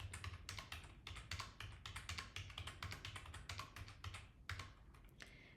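Quick, irregular plastic key taps as statistics data is entered on a calculator keypad, a steady run of clicks with short pauses, close and clear with no talking.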